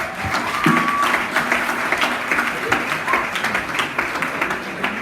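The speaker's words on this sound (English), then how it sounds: "Please, he deserves a hand of applause." Applause fills an awards ceremony for an academic quiz competition, a dense, even patter of many hands that holds steady throughout, with some talk and murmuring mixed in underneath.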